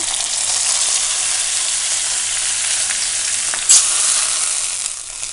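Browned shallots fried in coconut oil are poured sizzling into a coconut-based fish curry, giving a loud, steady hiss with one brief clink, close and without talk.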